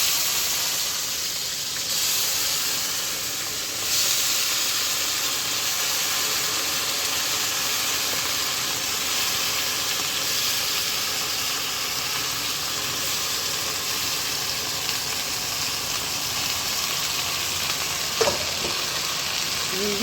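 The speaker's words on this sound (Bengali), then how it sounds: "এবার এখানে ভেন্ডি আর কোয়াশ ভাজবে" Okra and squash fry in a pan, a loud, continuous close-up sizzle with occasional stirring scrapes and a clink near the end, steady throughout with no talk.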